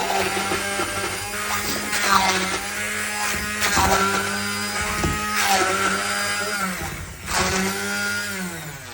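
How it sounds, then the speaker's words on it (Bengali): An electric blender grinds bottle gourd leaves for a mashed bharta, its motor whining loud and close with shifting pitch as the load changes, in several surging bursts and no talking. "ব্লেন্ডার করা শেষ"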